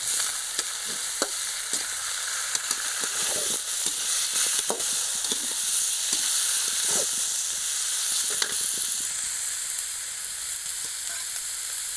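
Country chicken sautéing with salt in a pan over a wood-fired stove gives a steady close sizzle, broken by scattered sharp crackles and stirring scrapes, with no voices.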